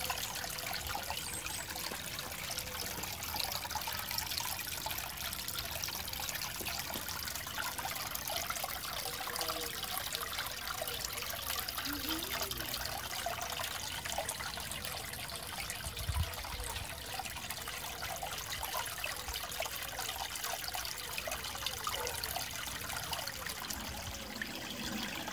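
Steady, soft trickle of water falling from a garden pond fountain, continuous and unbroken, with no voices.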